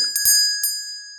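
A small golden bell is struck metal on metal, giving three quick close strikes whose bright, clear tone keeps ringing and slowly fades, with no voices.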